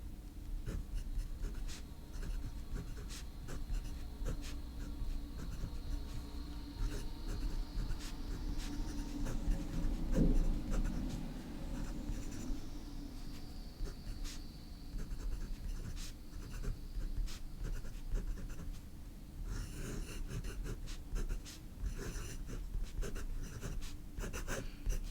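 Cursive italic fountain pen nib scratching steadily across paper while drawing, a soft continuous rasp with small strokes and pauses, close and fairly quiet throughout.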